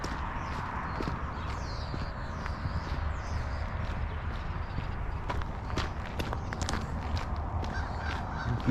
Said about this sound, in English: Geese are in the sun over here.